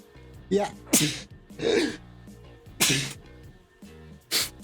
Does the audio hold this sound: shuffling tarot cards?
no